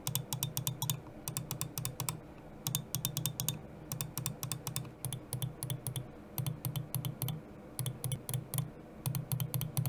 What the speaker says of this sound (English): I'll give you a sound test between the FE opticals and the mel0n switches here for you.